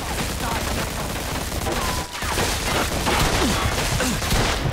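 Shotgun fire in the video game Mafia II rages as a dense, unbroken wall of loud blasts and crashing noise, with a brief dip near the middle before the barrage continues.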